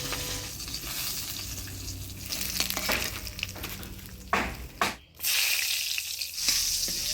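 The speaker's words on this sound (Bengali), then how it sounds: "লঙ্কাটা একটু হালকা ভাজিয়ে নিলাম এই তেলের মধ্যে" Green chilies fry lightly in hot oil, giving a steady close sizzle with crackling and a few clinks and stirring scrapes, briefly dropping out near the middle before the frying hiss returns.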